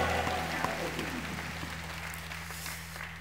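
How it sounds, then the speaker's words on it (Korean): A church congregation at a 2020 Horeb mountain prayer meeting breaks into a steady round of applause, moderately loud over a low humming background with voices present. "감사와 영광의 박수 올려드립니다"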